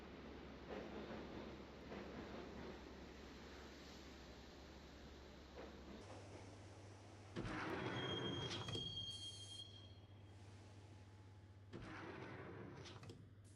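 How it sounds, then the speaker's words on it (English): Subway train ride in the Max Payne video game, a continuous low rumble of rolling carriages shifting midway, with metallic wheel squeals and a high screech rising around the middle and again near the end. "the train doors had already shut behind me, and I was in for the ride"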